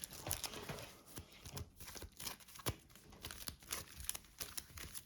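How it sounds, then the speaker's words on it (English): Cards are shuffled by hand during a Shadows of Brimstone board game session, making soft, close crinkling riffles and taps in uneven bursts with no talking. "we'll shuffle those back in, Alex."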